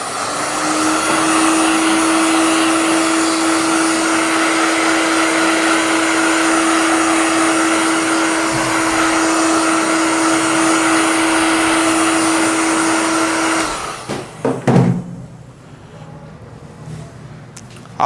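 A hair dryer blows hot air onto a freshly screen-printed plastisol heat transfer, a steady loud whir running close for about fourteen seconds before it switches off, followed by a few faint handling knocks.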